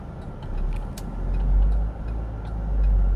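A 2013 Chevrolet S10 LTZ flex 4x2 pickup with a manual gearbox pulls away from a dealership, its engine a steady, loud low drone that swells and eases as it drives off.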